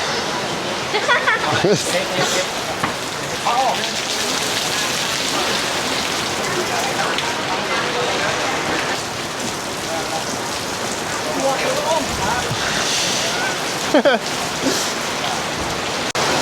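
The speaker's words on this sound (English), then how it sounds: "That's a lot of rain." Heavy rain pours steadily onto a surface, a dense continuous hiss of drops with a faint murmur of distant voices underneath.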